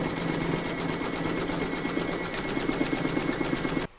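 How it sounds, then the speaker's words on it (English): A sewing machine stitches steadily and close-up around a quilted African safari table runner, securing the edges of the top fabric, running nonstop for several seconds before abruptly stopping. "You can now pop that into your machine and stitch round number 4"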